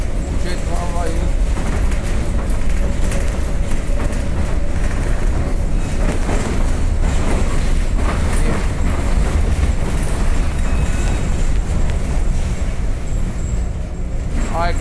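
A V3A-93-M2000 tram runs on rails near Gara de Nord in Bucharest, giving a steady, loud rumble and rattle that lasts throughout, with voices talking over it.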